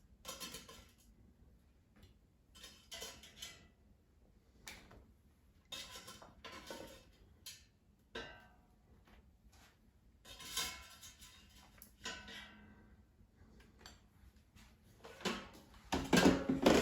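Muffins come out of an air fryer basket amid light clatter of metal and plastic, scattered clinks and knocks at close range, growing busier toward the end.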